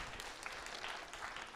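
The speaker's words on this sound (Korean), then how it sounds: "자, 박수." Children applaud at a church gathering, a steady patter of many small hands clapping, fairly faint and distant, without talk throughout.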